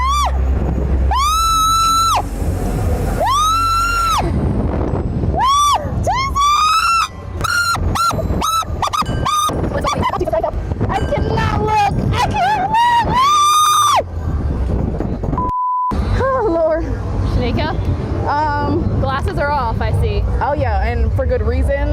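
Riders screaming on an amusement ride, long shrill wails rising and falling one after another, loud and close, with brief gasps and bursts of voices between the screams.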